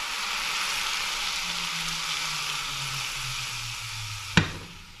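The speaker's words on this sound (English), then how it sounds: "you pour the boiling oil on there, and be careful and stir" Hot oil poured onto a chili mix sets off a steady, bright sizzle that fills the clip, with a low tone running underneath and a sharp clink from stirring near the end.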